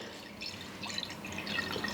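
Water trickles and drips as it is poured into a drinking vessel at home, a soft, continuous splashing heard close up for a couple of seconds.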